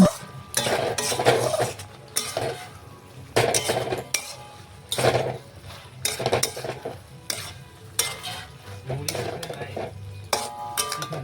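Fried okra (bhindi) is stirred and mixed into a pan of potatoes for a Bengali vegetarian dish, giving repeated scraping and clinking bursts of a utensil against the pan over a faint sizzle, close and fairly loud, with no talking.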